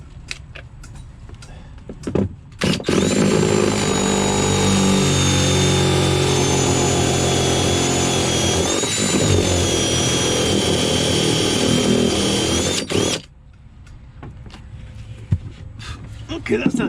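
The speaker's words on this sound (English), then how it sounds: "now with this drill, I need the other drill" A power drill whines loudly and steadily for about ten seconds, rising slightly in pitch midway, then stops abruptly, with clattering before and after.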